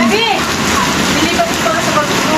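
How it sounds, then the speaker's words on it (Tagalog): Heavy rain pours steadily in a dense broadband hiss of splashing water, loud and continuous, with faint voices or sounds partly masked beneath it. "sobrang lakas ng ulan"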